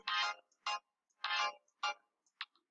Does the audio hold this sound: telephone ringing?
yes